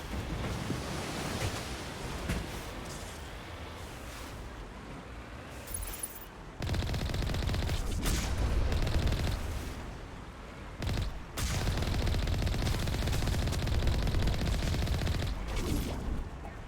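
Sustained automatic weapon fire in Mass Effect (Legendary Edition, first game) on the icy world of Noveria, heavy continuous rattling bursts with brief pauses between long strings of fire, loud and dense, no talking.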